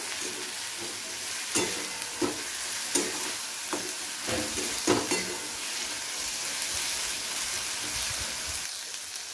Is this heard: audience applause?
no